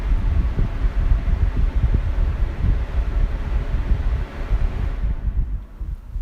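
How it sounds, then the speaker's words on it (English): A Lasko 3723 Weather Shield premium box fan running, a loud, steady, rough whoosh of moving air with heavy low rumble, easing slightly near the end. "this is the 3723 Weather Shield box fan"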